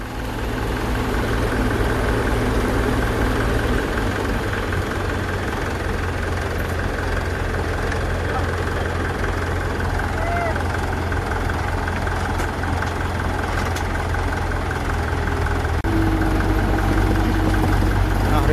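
A Kubota L5018 tractor's engine runs steadily at close range, a loud, even, low mechanical drone with a deep throb that holds unbroken for the whole stretch.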